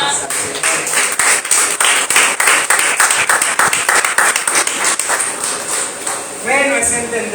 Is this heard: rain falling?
no